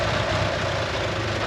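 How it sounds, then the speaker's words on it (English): A Mitsubishi Eclipse engine idles steadily up close with a large exhaust leak at the manifold gasket, giving a continuous low rumble with a faint ticking texture woven through it. "If you listen close, hear that ticking? We've got a huge exhaust leak down there"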